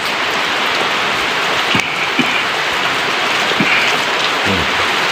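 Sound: rain falling

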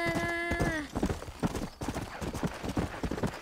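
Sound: horse walking hooves in video game Red Dead Redemption

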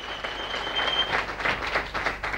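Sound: audience applause for contestant number three

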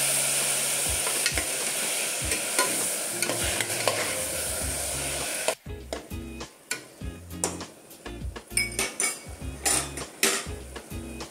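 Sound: onions and tomato frying in a pan

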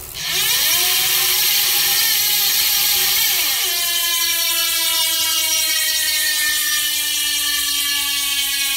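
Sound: Trek Emonda carbon road bike rear freehub ratchet clicking while spun

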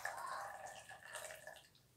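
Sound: boiling water being poured into a container

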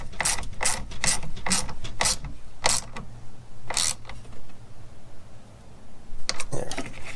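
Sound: ratchet tightening transmission bolt

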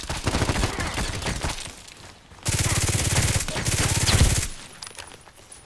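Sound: gunfire in the video game Contract Wars

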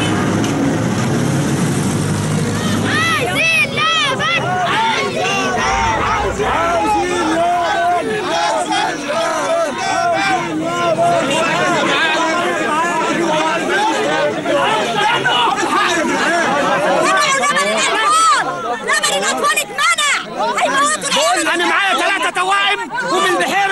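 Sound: protesting crowd chanting slogans about baby milk

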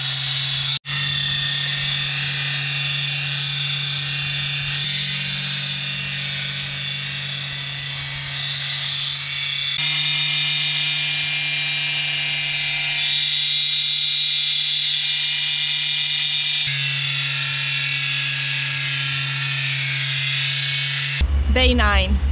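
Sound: power polisher polishing boat hull in boatyard

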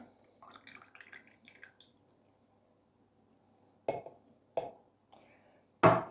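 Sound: pouring sunflower oil for homemade mayonnaise

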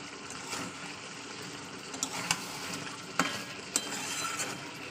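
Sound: chicken kosha being stir-fried in spices

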